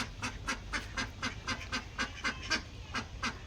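Ducks kept by the family quack in a quick, even rhythm, about a dozen nasal calls close to the microphone over a faint background hum.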